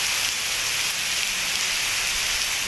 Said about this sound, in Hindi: इस्लामाबाद और रावलपिंडी में गरज चमक के साथ बारिश हुई